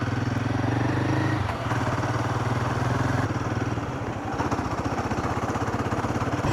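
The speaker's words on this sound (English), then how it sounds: "tappet noise as well, but it has been coming from a long time" A Guerrilla motorcycle engine runs steadily up close, its idle carrying a rapid mechanical tappet ticking over the throbbing exhaust pulses, with no talk over it.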